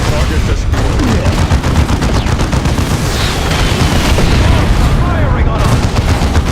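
Dense battlefield gunfire and booming blasts in the strategy game Dawn of War II: Chaos Rising, a loud, continuous fusillade of rapid shots with overlapping explosions, and voices calling out amid the combat.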